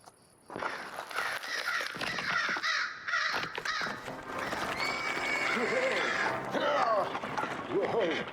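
Crows caw repeatedly in a gothic Edgar Allan Poe gamebook, The Oval Portrait, the harsh calls mixed with other game effects and sounds, moderately loud and overlapping.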